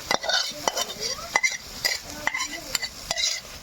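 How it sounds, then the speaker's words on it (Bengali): Coriander chicken stirred and fried in a hot pan, a spoon scraping in a steady rhythm of repeated strokes over a constant close sizzle. "ভালো করে নাড়তেই থাকতে হবে যতক্ষণ না মানে ছেড়ে আসবে ধনে পাতাটা"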